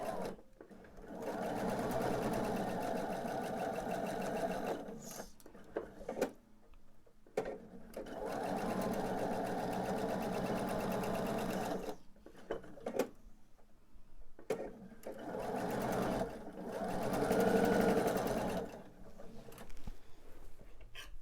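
Sewing machine stitching pieces of pillowcase fabric with a scant quarter-inch seam: several long runs of steady, rapid mechanical whirring, split by short pauses and small clicks, close and fairly quiet.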